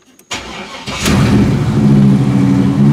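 A 1976 Chevrolet Malibu with a swapped 5.3 V8 cranks briefly, then catches and fires up into a loud, steady, high cold-start idle close by.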